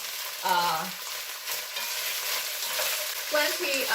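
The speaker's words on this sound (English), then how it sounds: "I'm going to turn the heat down now and go ahead and stir these around." Green beans stirred and simmering in a pot for a Greek fasolakia dish, a steady sizzling bubble with soft scraping and clinks throughout, and brief voiced sounds near the start and end.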